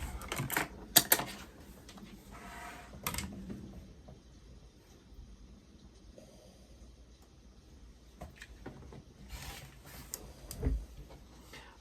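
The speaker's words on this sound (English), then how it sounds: "first thing we're going to do is cut the straight sides" Quilting fabric is cut along straight sides for a quilt block, giving scattered sharp cutting and handling clicks between quieter stretches, close and fairly loud in bursts.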